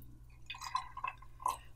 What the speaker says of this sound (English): finally we're going to pour in some heavy cream, or in our case half and half because we don't have heavy cream